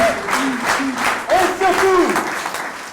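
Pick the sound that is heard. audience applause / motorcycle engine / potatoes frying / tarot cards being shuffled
audience applause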